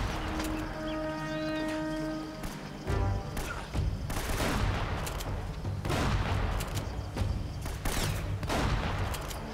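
Shotgun blasts and heavy gunfire in the action video game Uncharted: Drake's Fortune, a loud cluster of booming shots that starts about a third of the way in after a sustained tonal hum and keeps going in dense, overlapping bursts.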